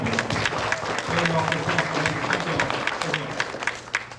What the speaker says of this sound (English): y'all give Mayor Dickens a round of applause, please